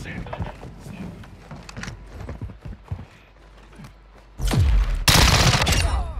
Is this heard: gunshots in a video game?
yes